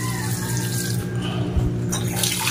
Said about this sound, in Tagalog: lalagyan na po natin ng tubig. 2 basong tubig lamang po.